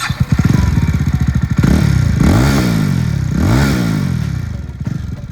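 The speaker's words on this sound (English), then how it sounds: "the exhaust note of this motorcycle is beautiful" A Jawa 350 single-cylinder motorcycle with a split twin exhaust blips its throttle, loud and close: a rapid thumping idle rises into two strong revs that sweep up and fall back before settling.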